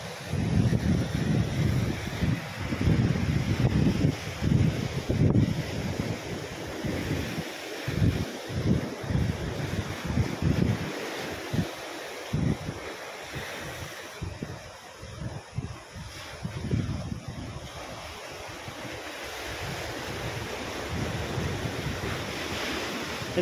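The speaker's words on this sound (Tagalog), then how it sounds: "Lumakas ang alon sa kanyang favorite spot." Strong ocean waves and gusting wind at a shoreline fishing spot in Libya, a continuous loud roar of surf with wind buffeting the microphone, swelling and easing over time, no voices heard.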